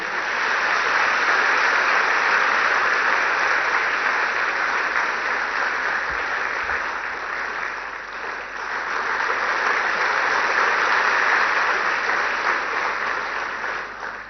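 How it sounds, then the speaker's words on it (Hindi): A large audience at a World TB Day conference in Varanasi applauds loudly and continuously, a steady dense roar of clapping sustained throughout with no pauses. "कृपया जोरदार तालियां बजाते रहें।"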